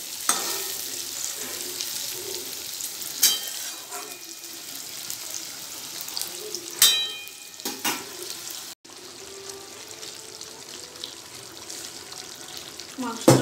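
Onions frying in a pan as marinated meat and potatoes go in, with a soft sizzle, intermittent spatula scrapes and clatter, and a brief running-water sound partway through; no talking.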